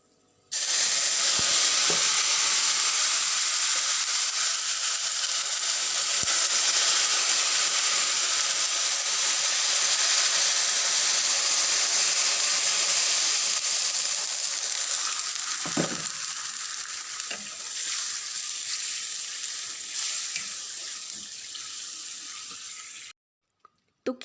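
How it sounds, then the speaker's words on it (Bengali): Vermicelli (semai) fries in hot oil in a home kitchen, giving a loud, steady broadband sizzle and hiss that holds for over twenty seconds, then cuts off abruptly near the end. "তো এই যে সেমাইগুলো একদম ভেজে নিলাম।"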